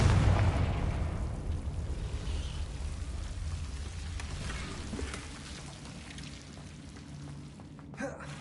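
A Confringo blasting curse goes off in Hogwarts Legacy, a loud low boom at the start that decays into a long rumbling wash, followed by a faint pop near the end.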